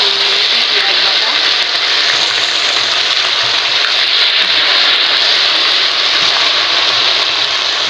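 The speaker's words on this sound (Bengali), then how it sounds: "ওই তেলে এবার দিয়ে দেবো দুটো আমি পেঁয়াজ কেটে এখানে" Chopped onions frying in hot oil after bay leaf, cumin and garam masala tempering, a loud, steady, close hiss and sizzle that carries on without a break.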